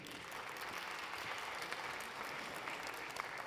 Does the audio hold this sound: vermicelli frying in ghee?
no